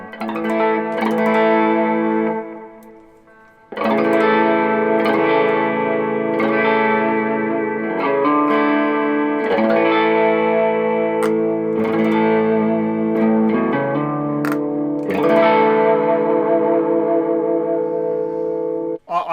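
Old Stratocaster electric guitar played through a Boss GX-10 processor, melodic clean-ish phrases with chorus and echo, sustained notes ringing out, with a short pause early on before playing resumes loudly.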